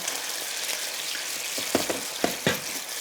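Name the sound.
rice wine vinegar boiling up in pan with gyoza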